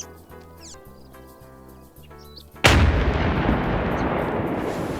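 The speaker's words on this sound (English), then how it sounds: "So Blue 4 just fired a round of artillery." An artillery round fires in the Arma military game, a sudden loud blast that cuts off faint game ambience and leaves a long, roaring, rumbling tail.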